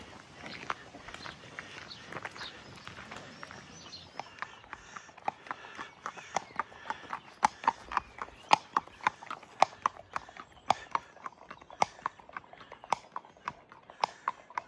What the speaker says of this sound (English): I guess the horse knows where it's going.